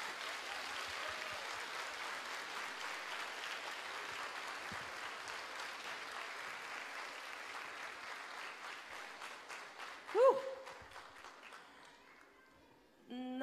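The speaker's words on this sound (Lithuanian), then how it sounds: "Plojimai." Sustained audience applause at a youth centre Christmas concert, an even, moderately distant wash of clapping that rolls on for about ten seconds before a brief vocal sound cuts through and the clapping fades out.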